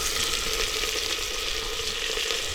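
Steady, loud sizzling of spices tempering in hot oil, a dense crackling hiss that continues without pause and with no voices.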